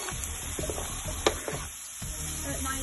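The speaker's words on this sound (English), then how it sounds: "Give that a good stir so it's all like mixed around." Chicken pieces and onions stir-frying in a pan, a close continuous sizzle with scraping stirs and a sharp clatter midway, no voices.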